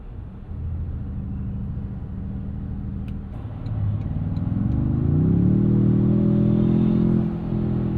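Tuned twin-turbo 466 hp 2026 Toyota Tundra TRD Pro cruising on a highway, with a steady low engine drone and road rumble that swells midway as the revs climb, then holds a smooth heavier hum.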